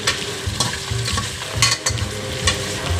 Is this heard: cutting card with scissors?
no